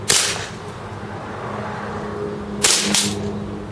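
A KWC Desert Eagle CO2 airsoft pistol fires 0.20 gram BBs through a chronograph, giving one sharp crack at the start and then two quick shots close together near the end, all close and loud.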